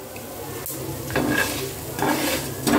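Cardamom and dried Byadgi red chillies are sautéed in a pan for Kolhapuri misal, a soft sizzle under a few distinct scraping stirs of a spatula, close and moderately loud.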